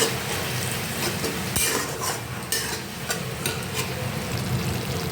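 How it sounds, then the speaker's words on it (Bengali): Spice paste of tomato, turmeric, cumin, coriander and chili powder with salt and water fries and is stirred in a pan, a dense continuous sizzle with scraping spatula strokes and light metal clinks, close and fairly loud. "সামান্য নুন এবং জল দিয়ে মশলাটিকে ভালোভাবে কষিয়ে নিতে হবে"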